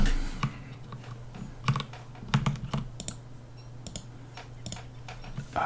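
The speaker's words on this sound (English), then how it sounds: "constant clicking, but you know, I have to click to necessarily pick up anything important in this game." Crisp mouse clicks tap out in short irregular bursts during a session of Don't Starve Together, close and dry against a low steady hum, with no talking.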